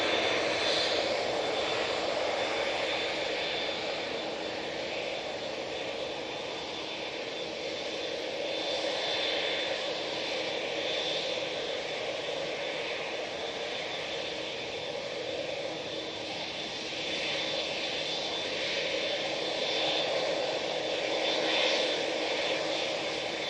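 An ATR 72 turboprop departs from Manchester Airport bound for Newquay, giving a steady, moderately loud engine drone with a broad hiss that swells and eases slightly throughout, with no voices.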